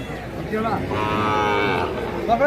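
A cow lets out one long, loud, close moo that swells and then fades, at a cattle market.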